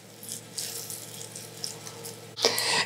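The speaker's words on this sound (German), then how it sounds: "Bevor ich in dem Töpfchen jetzt die Samen versenke, feuchte ich das Substrat ordentlich an" Water is poured to dampen potting substrate in a small 9 cm seed pot before sowing aubergine seeds. A soft, uneven trickle runs for a couple of seconds, then swells into a louder splashing gush near the end.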